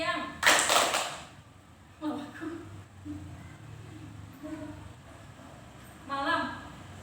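A group counseling session plays an Indonesian concentration clapping game: bursts of group hand claps in short sets separated by pauses, with a leader's voice calling out cues between them.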